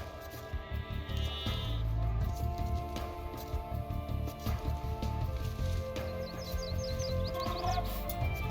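Sheep bleat in Age of Empires II, several clear bleats over a dense, loud game soundscape of ambient music and effects.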